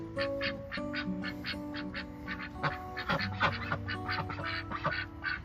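Ducks quack repeatedly in short, overlapping bursts, close by, with a chorus of several birds calling in an irregular rhythm.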